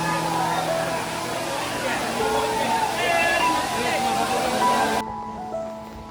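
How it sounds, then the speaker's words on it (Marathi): Waterfall in full flow at Bendewadi near Pune during the monsoon, a steady broadband roar of falling water with crowd chatter and voices mixed in, the rush thinning abruptly near the end. "आणि इथं फुल धबधबा."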